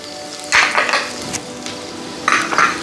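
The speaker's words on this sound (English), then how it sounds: "Just going to stir that for a couple of minutes." Rice frying in a pan with asafoetida, turmeric and black pepper, stirred in two bursts of scraping and sizzling with a quieter steady hiss between them, close and fairly loud, no voices.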